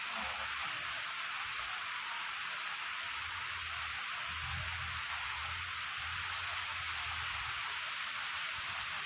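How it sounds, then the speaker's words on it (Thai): Rain pours steadily outside a house, a dense, even hiss of drops that holds constant throughout with a faint low rumble underneath, with no voices. "ฝนตกแล้วบ้านเรา"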